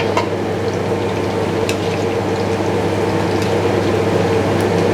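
Garlic frying in hot oil for chilli oil, a loud, steady sizzle with crackling spits running unbroken from start to finish, close up and alone.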